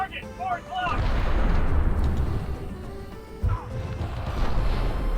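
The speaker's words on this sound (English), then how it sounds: "Oh, it's an impact grenade" An impact grenade bursts in a cancelled 2013 Call of Duty game, with a heavy booming blast that rolls into a long rumble, followed by a second thud and more rumbling gunfire-like noise.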